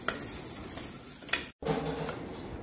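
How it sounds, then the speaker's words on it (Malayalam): Half a teaspoon of turmeric powder fries in hot oil for moru curry, giving a steady close sizzle with light stirring scrapes and a brief cut partway through. "ഇനി ഇതിനകത്തേക്ക് നമുക്കൊരു അര ടീസ്പൂൺ മഞ്ഞൾപ്പൊടി ഇട്ട് കൊടുക്കാം. ഇട്ട് കൊടുത്ത് അതും ഒന്ന് മൂപ്പിച്ചെടുക്കാം."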